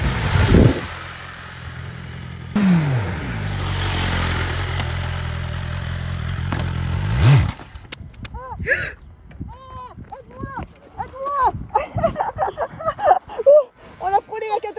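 A motorcycle engine idles with a low steady rumble, revs briefly, then cuts off, after which people talk and exclaim close by.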